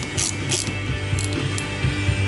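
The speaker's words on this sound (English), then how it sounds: "So it's best to use a ratchet and then just use your workbench to brace it so it can't walk down on you." A hand ratchet clicks in quick bursts of rounds while loosening the coil spring bolts on a Yamaha Banshee ATV braced against a workbench, close and clear with no speech.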